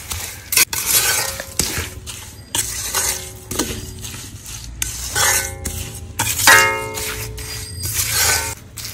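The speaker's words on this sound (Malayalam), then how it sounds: "എന്നിട്ട് നമ്മളിതൊന്ന് മിക്സ് ചെയ്യണം നന്നായിട്ട്." Spice powders and salt being mixed into Kerala-style dry fish pickle in a pan, a series of irregular scraping stirs with metallic clinks and a faint sizzle, close by, without speech.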